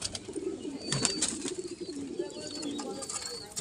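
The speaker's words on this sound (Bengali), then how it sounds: "এটা মাদা পায়রা" A pigeon coos softly with low, repeated throaty rumbles close by, faint beneath light background noise and other birds' scattered sounds.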